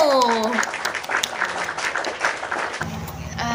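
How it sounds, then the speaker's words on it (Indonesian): Classroom students clap for a classmate in a brief burst of applause that fades out, with a voice at the start and more talk at the end. "Oke, beri tepuk tangan untuk Ibnu."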